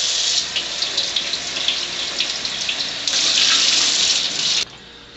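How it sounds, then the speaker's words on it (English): Cold water runs from a kitchen tap over a solid chunk of rendered beef tallow, a steady close hiss of flow that swells louder midway as the stream hits the fat, then cuts off near the end. "I just need to rinse this off"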